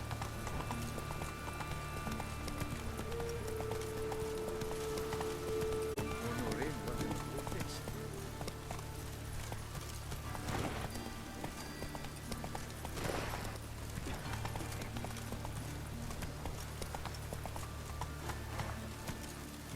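Roach, Geralt's horse in The Witcher 3, gallops with a steady rapid clip-clop of hooves over continuous game ambience, with bursts of voices and effects rising over the pounding gait.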